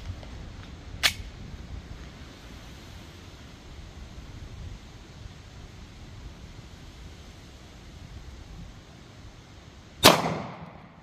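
Two sharp pistol shots from an S&W M&P in .40 S&W firing Underwood 140gr Maximum Expansion rounds into a gel block outdoors, one about a second in and a louder one near the end, separated by quiet wind-like background.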